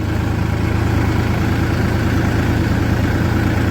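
A tractor engine running on a farm road, a loud, steady idling rumble with a regular low throb, close and continuous with no talking.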